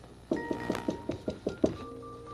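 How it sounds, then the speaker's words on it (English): A knock on a door sounds as seven evenly spaced, firm wooden raps close by, followed by a sustained musical tone. "You will soon hear a knock."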